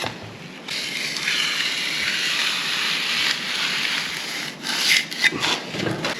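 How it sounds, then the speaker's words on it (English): A steel corner trowel scrapes continuously along fresh plaster in an inside corner, giving a steady close gritty rasp with short sharper scuffs near the end, and no voices over it. "This is the corner trowel being used right now."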